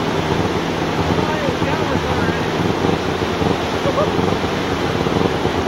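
River water rushes steadily at a watercross crossing, a dense, loud, unbroken roar close to the microphone with some wind buffeting and no clear talk.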